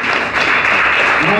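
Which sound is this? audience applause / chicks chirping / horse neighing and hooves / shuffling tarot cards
audience applause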